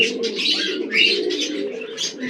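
A flock of loft pigeons gives a dense, nearby chorus of throaty cooing and gentle warbling, steady and unbroken with faint chirps mixed in, no human voices.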